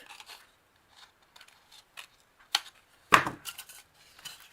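Scissors snip through craft material for a DIY angel-on-a-cone Christmas decoration, giving a few short, close cuts with soft rustling between them and one louder crisp snip near the end.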